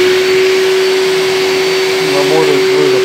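Graphite 59G608 construction vacuum cleaner, a budget 40-litre model, switched on with its hose set to blow: a loud, steady motor whine with a constant high tone, running close and alone.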